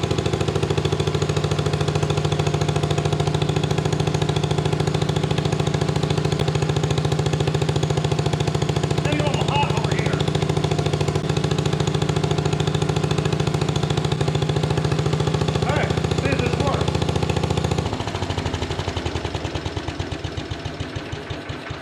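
A 1957 Gard'n Mast'r garden tractor's small engine runs steadily and loudly at close range with a rough, even idle for about eighteen seconds, then the note changes and becomes more uneven and sputtering near the end.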